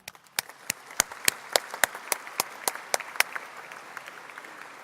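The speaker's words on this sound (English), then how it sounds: "let's give an applause to the 2018 organizers for ICML" Scattered, fairly quiet clapping at the ICML 2018 machine learning conference: distinct individual claps come in an uneven rhythm over a soft bed of applause, then thin out.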